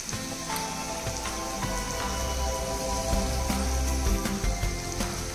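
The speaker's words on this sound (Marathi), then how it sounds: "सर्व मसाला चांगला फ्राय झाला आहे आपला।" Masala spices fry in a pan for Khandeshi methi vatana, giving a steady, close, crackling sizzle that runs unbroken throughout with no voices.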